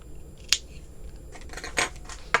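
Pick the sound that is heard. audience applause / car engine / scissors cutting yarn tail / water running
scissors cutting yarn tail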